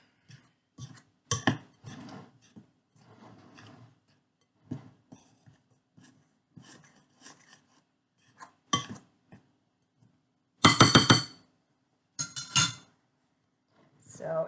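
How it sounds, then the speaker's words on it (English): A spoon stirring a dry gingerbread cookie mix of flour, brown sugar and spices in a bowl, giving intermittent scraping and clinking strokes, close, with pauses between bursts and a louder rattling clatter near the end. "I'm going to stir up this dry mix so it all blends."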